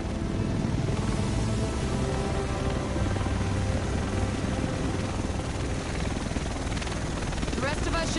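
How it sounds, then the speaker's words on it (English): Helicopter arriving in The Division video game, a loud steady rotor and engine roar that fills the whole stretch with a rising whine near the end, over rain-like noise and background game voices. "The rest of us should be in this chopper."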